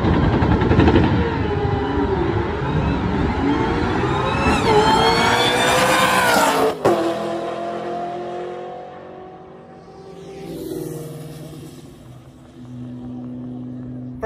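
A stock-motor Cobra drag car with a Whipple supercharger makes a shakedown pass at a drag strip, its engine roaring loud and close as it revs and climbs in pitch, then cuts abruptly and fades to a lower rumble with faint voices afterward.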